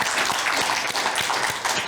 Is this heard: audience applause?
yes